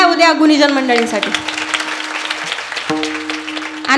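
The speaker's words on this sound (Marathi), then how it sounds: "एकदा जोरदार टाळ्या उद्या गुणीजन मंडळींसाठी." An audience at a Marathi kirtan performance claps loudly together, the applause running steady beneath a speaking voice and harmonium notes.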